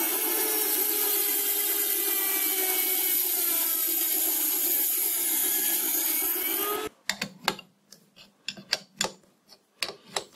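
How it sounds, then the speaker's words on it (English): A Dremel rotary tool runs at a steady high whine while machining an old bronze lathe bearing, vibrating against the work, then cuts off abruptly, followed by scattered knocks and clicks. "The vibration of the Dremel tool is causing it to move."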